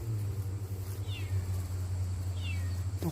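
Cat meowing outdoors, two brief rising-falling meows spaced about a second apart over a steady low hum and rumble, with a short knock near the end.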